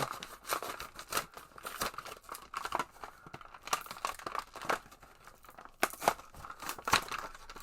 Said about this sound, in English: just rip open that package